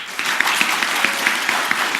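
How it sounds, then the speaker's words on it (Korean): Church audience applauding to welcome a pastor to the front, steady clapping from many hands throughout the short burst, moderately loud with scattered sharper claps standing out. "인사할 때는 박수로 맞아주시기 바랍니다"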